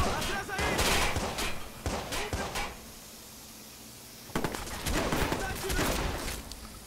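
Bursts of rapid gunfire in the video game Watch Dogs crackle in quick volleys, pause briefly, then resume, with the sharp shots sounding close.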